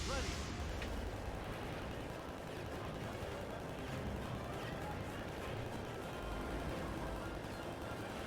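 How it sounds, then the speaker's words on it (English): Gatling gun fire in the video game Tank Tank Tank, a dense continuous rattle of rapid shots and explosions filling the whole stretch, loud and unbroken. "Gatling gun ready."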